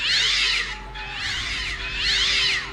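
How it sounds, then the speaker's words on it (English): A wailing alarm in a Harry Potter film, a shrill, warbling siren that rises and falls like a strangled cat's yowl, sounding in two loud swells with a low steady hum underneath and no speech. "That's an alarm? That sounded like a cat being strangled or something."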